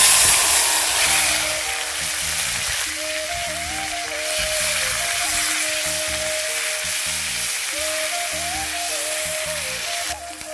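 A mixed paste of ginger, cumin, onion and garlic hits hot oil in a home kitchen pan for a fish and potato curry, giving a loud, continuous close sizzle with a faint steady tone running beneath it.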